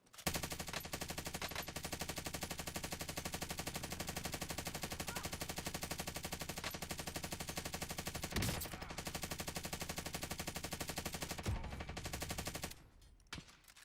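Rapid automatic gunfire in a first-person shooter video game, a continuous rattling burst of shots in a fast, regular rhythm that runs for about twelve seconds before abruptly stopping, with no voices.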